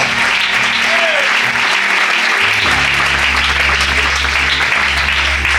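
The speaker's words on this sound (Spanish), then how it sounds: "Dale un aplauso para la persona del Espíritu Santo." A church congregation bursts into loud, sustained applause that fills the room, with clapping continuing steadily throughout and a low hum beneath it.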